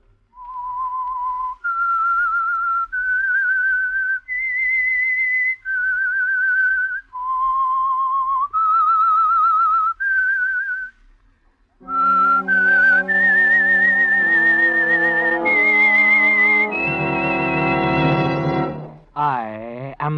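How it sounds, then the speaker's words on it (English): A lone whistler performs the eerie Whistler theme, a clean, close melody of sustained notes stepping up and down, followed by a richer, louder harmonic passage of held tones swelling to a close. "That whistle is your signal for the Signal Oil Program"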